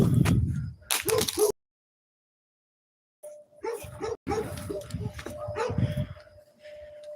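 Dog barking and howling in short bursts close by, broken by a silent gap, with someone talking over parts of it.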